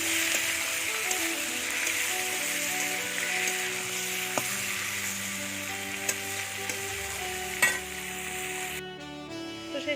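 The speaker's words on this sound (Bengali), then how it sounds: "আর তেলের মধ্যে এখন তেজপাতা শুকনো লঙ্কা দিয়ে দিয়েছি" Bay leaves and dried chillies fry in hot oil, a dense steady sizzle close by with occasional stirring clinks and small pops throughout, no talking.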